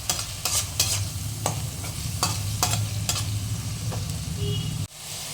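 Onion paste fries gently in hot white oil in a kadai, a low continuous sizzle broken by sharp spoon scrapes and stirring knocks, cutting off abruptly near the end.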